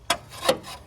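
A blade scrapes dirt off the underside of a mower deck in two short, rough strokes, with a fainter third scrape after them, close and loud.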